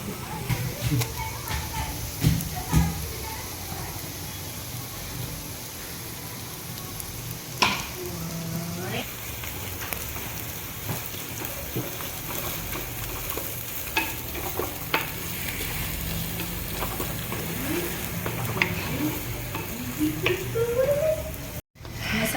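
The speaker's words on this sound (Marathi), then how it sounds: "कांदा आपला परतलाय आता याच्यामध्ये आपण तयार केलेलं आपलं वाटण घालणार आहोत" Ground masala paste fries with sautéed onion for a rustic Sankranti bhogi vegetable dish, making a quiet continuous sizzle with frequent spoon clinks and stirring scrapes, and faint voices in the background.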